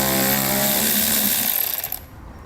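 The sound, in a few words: removing a bolt with a 10mm socket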